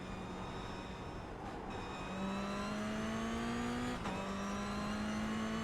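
Race car number 14 lapping in a race, its engine note rising steadily as it accelerates through the gears, loud and continuous from the driver's seat, with a brief shift break partway through.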